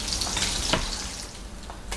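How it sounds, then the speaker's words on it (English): Thick slices of SPAM sear in an oiled pan, close up, with a steady bright sizzle and a few sharper pops and crackles over two seconds. "This is the sear you want to hear when you sear spam."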